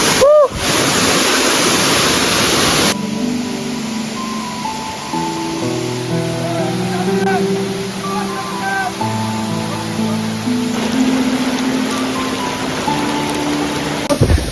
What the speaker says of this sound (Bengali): অবশেষে ঝর্ণার দেখা।